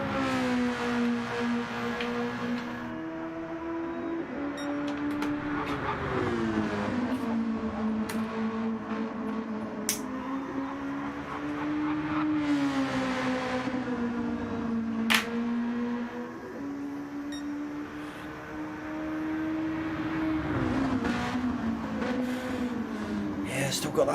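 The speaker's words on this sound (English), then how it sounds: "Still got that slight wobble on these cars as they go around corners." Electric-whine harmonics of RC race cars in a Red Bull Juniors league round at Kyoto Driving Park, rising and falling as they circle the track, continuous and fairly loud under steady commentary.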